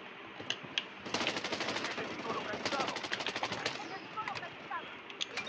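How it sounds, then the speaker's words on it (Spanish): A VSS rifle in the mobile shooter Bloodstrike fires several rapid bursts of sharp, crackling shots, separated by short pauses, with a voice faintly underneath. "si yo disparo ráfagas de estas, no soy capaz de hacer daño"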